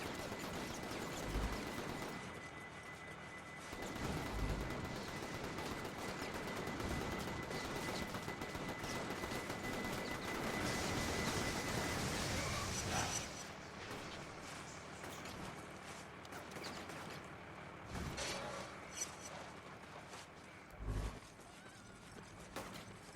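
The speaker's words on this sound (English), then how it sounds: "I am super getting shot at now" Sustained in-game gunfire from inFAMOUS, a dense, loud rattling barrage of shots for much of the stretch, thinning later into scattered bursts and impacts over a busy game soundscape.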